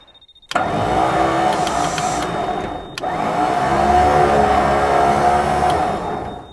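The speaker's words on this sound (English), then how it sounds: "We've obviously ascertained that the winch works" A winch on a Sprinter 310D recovery truck runs with a steady motor whine and hum that starts abruptly, briefly dips, then carries on at an even level, close and without talk.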